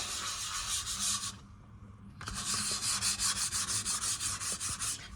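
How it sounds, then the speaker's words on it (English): Sandpaper of 600 grit lightly rubbing the spray-painted body of a Harley Benton DIY guitar kit, with steady rhythmic strokes that stop briefly before resuming, close and alone. "We don't want to be rubbing any of the paint off, but feel that, Ems, feel how much smoother that feels now"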